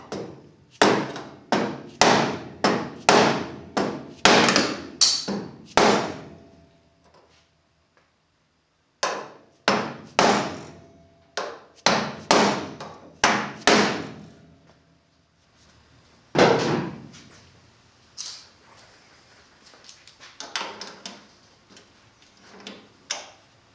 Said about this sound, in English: since I'm using a soft dead blow, it's not going to mar my hammer up at all.